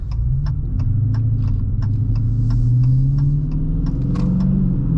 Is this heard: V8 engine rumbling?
yes